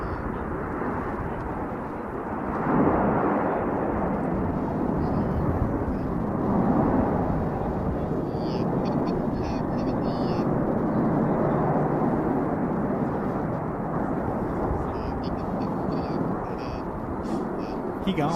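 Display aircraft at the Royal International Air Tattoo roar steadily overhead as they dive in for a formation crossover, a loud sustained engine rumble with a commentator talking over it.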